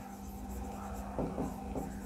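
Chalk or marker scratching on a board during a maths lesson, a few short rubbing strokes near the end over a quiet room hum.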